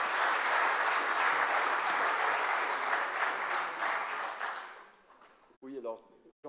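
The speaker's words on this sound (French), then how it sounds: "vous avez le droit de vous applaudir." Audience applause at a French amateur football fair-play awards ceremony, a steady dense clapping that holds for several seconds, then thins out as a voice begins speaking near the end.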